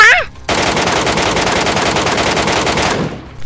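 Sustained rapid machine-gun burst in a battle royale video game, loud and continuous for about two and a half seconds before cutting off, with brief muffled game sounds around it.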